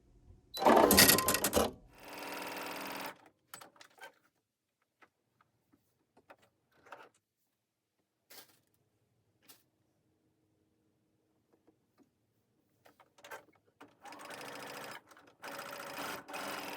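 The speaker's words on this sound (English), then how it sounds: "Because the top is cut like on a bias on an angle, it's important to stay stitch it so that it keeps its shape." A sewing machine stay stitches the bias-cut bodice of a summer dress, a loud short burst of stitching followed by quiet gaps with scattered faint clicks, then further bursts of stitching near the end.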